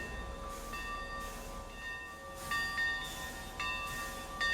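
An old locomotive kept running in Cuba, heard as a steady rumbling train with high ringing bell-like or horn tones sounding repeatedly over the mechanical noise.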